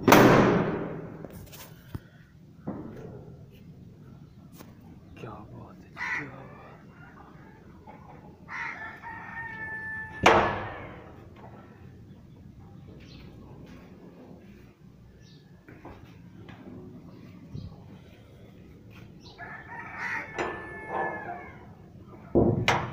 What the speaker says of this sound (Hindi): मुर्गियों को दाना भी डाल देते हैं